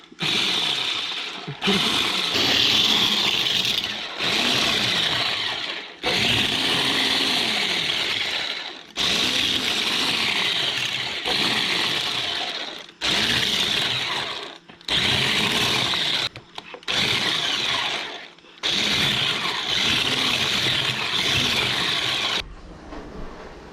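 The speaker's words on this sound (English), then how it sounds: "I just have a little hand mixer here, and you're just going to kind of like chop up the apples a little bit" A small handheld electric mixer chops apples into cake mix for an apple pie cake, whirring loudly in repeated bursts of a few seconds each, separated by short pauses, with no talking.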